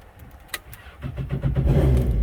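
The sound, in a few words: Yamaha jet boat engine starting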